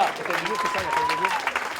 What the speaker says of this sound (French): On l'applaudit une nouvelle fois à notre ami Beñat